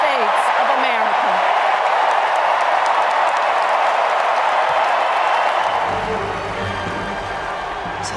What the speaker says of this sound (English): So this is how liberty dies, with thunderous applause.